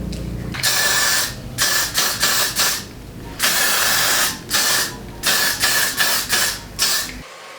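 Aerosol hairspray sprayed onto hair in repeated bursts, some long and some short, loud and close with brief pauses between.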